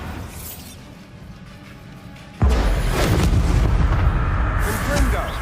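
A Bombarda spell explosion in Hogwarts Legacy bursts with a sudden loud boom partway through, then a sustained rumbling, crackling blast wash follows over the background game sound.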